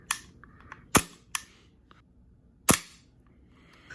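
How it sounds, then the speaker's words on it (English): Coolfire trainer pistol firing with its slide cycling under simulated recoil: four sharp, close, isolated cracks with quiet gaps between them, the second and last the loudest. "this gun fires, it will recoil the slide. It will run the slide."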